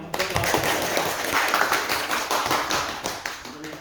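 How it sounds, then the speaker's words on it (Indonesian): Applause from a classroom audience after a group presentation, dense overlapping claps filling the space steadily for a few seconds. "Kasih aplaus dulu ya"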